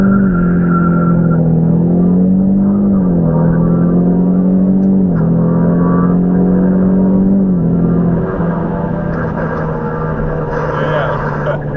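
A tuned 2019 Mustang EcoBoost racing a Focus ST from a dig: a loud, continuous engine roar with rising, falling pitch sweeps through several gear changes and some tire spin, with occasional talk.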